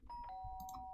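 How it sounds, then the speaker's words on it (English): A doorbell in the Danganronpa video game chimes once, a quiet clear two-tone ding-dong with sustained ringing tones and no talking. "Sharp sound of the doorbell"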